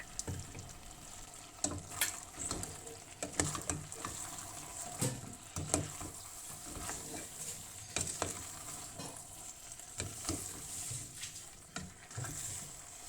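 Sweet and sour chicken sauce with pineapple, stirred in a pan on the stove, bubbles and sizzles steadily while a spoon scrapes and swirls in repeated strokes, close and fairly quiet with no talking.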